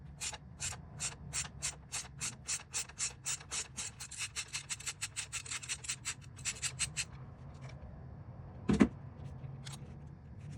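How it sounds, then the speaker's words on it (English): Ratchet turning an 8mm socket to loosen a bolt on a 2012 Ford Focus SEL engine, a rapid run of sharp rhythmic clicks that slows and stops, then one louder knock near the end. "then we're going to remove that 8mm bolt right there. Alright, so 8mm socket."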